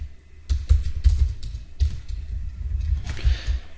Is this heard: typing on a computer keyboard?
yes